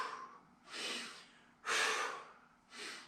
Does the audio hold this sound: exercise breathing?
yes